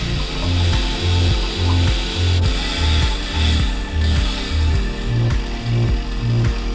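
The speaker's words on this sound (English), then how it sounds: "the guy on the boat uses a chainsaw to cut through it" A chainsaw worked from a boat cuts through a tree branch over water, with repeated rhythmic surges of rough sawing about every half second, close and loud.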